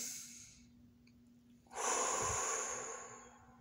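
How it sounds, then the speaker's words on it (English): A man breathing after singing a song: a faint quiet stretch followed by a long, loud, close exhale that slowly fades, with a steady low hum underneath. "So let me breathe again."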